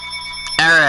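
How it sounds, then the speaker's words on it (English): An electronic phone ringtone cuts in abruptly partway through, loud and sustained over a steady background tone on a NASCAR talk show. "your phone is ringing"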